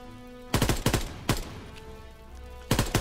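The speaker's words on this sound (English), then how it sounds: "I was wondering where someone's shooting at him" Bursts of gunfire in a World War II video game: a rapid double burst, a single sharp shot, then another rapid burst near the end, loud and close over a low background of game music.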